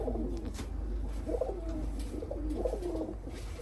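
Young pigeons coo in repeated soft, rolling calls over a low background hum, several phrases close by, no talk.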